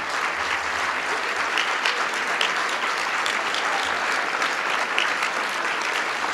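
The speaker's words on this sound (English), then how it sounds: "let's give them a round of applause" An audience at a county government address claps loudly and continuously in sustained applause for county employees, a dense, even wash of hand claps with no break.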